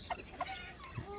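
Chickens eating meat and tripe, giving a few short, quiet clucks spaced apart, with no voices.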